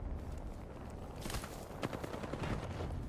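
Rapid gunfire bursts in the Apex Legends video game arena mode, fast rattling shots rising through the middle of the stretch over a steady background, with no voice over it.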